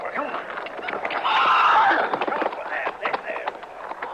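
An injured horse with a bad leg walks slowly in a Western radio drama setting, with muffled hoof clops, a snort and some movement close by.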